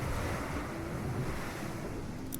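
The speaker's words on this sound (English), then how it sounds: "Oh, I'd forgotten how loud the waves are." Ocean waves roll and wash continuously in PowerWash Simulator, a loud, dense, steady surf roar filling the whole stretch with no voices.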